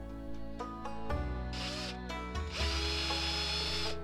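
A power drill whirs in several bursts, pitch dipping and rising as the bit bites into wood, close and steady.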